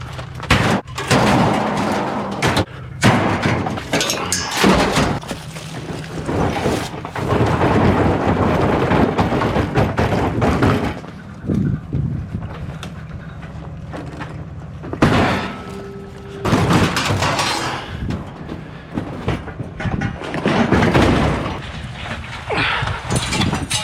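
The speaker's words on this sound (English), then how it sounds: "I'm just gonna throw in all of the scrap metal I have in the house" Household scrap metal is tossed into a truck, giving repeated loud crashing and clanging bursts separated by short pauses, nearby and forceful.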